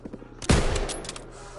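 Gunfire in the online multiplayer shooter Call of Duty WW2: a few light taps, then a sudden loud burst of shots that rings out and trails off into echoing reverberation.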